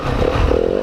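A Yamaha WR250F dirt bike engine gives a short, loud, close rev as the throttle is blipped, rough and rumbling, under a second long.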